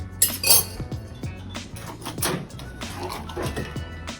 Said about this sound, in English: We need a glass and a little bit of ice.